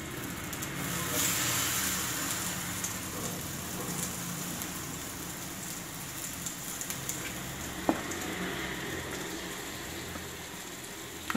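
Bread pieces topped with a mix frying on a hot tawa, a continuous soft sizzle and crackle like light rain, steady and fairly quiet, with one sharp click partway through.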